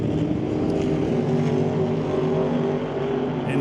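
Doorslammer drag race cars, including a black and purple 1941 Willys, roar down the strip, a continuous loud engine drone heard from the distance of the stands without a clear pass-by peak.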